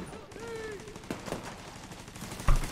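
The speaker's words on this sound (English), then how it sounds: "Getting shot." Enemy gunfire in the video game The Division 2, a few sharp bursts of shots over a busy game soundscape, the loudest crack near the end.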